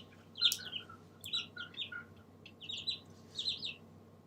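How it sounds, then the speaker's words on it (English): Songbird chirping outdoors on a spring morning near a chicken coop, a series of bright, high twittering phrases repeating at short intervals against a quiet background, fairly close and with no talking. "What bird is that?"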